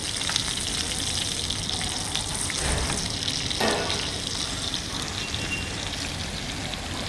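Meat sizzles steadily in browned butter in a pan, a continuous close crackling hiss with small bursts of spattering, no voices over it.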